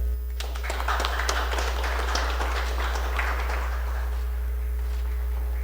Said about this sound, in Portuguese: Gostaria de convidar os vereadores para aplaudir a Cical